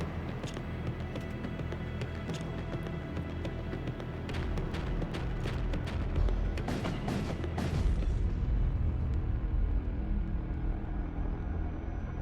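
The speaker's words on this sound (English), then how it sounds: "The explosion scatters debris in every direction." A rumbling blast in the space combat game Void War, a deep sustained boom with crackling bursts of debris building into a heavy low roar that lingers and fades.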